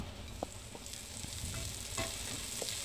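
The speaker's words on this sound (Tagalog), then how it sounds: "mag-gisa na tayo ng bawang" Garlic sautés in a pan, a steady close sizzle with a few soft spatula taps and stirring scrapes, no voices.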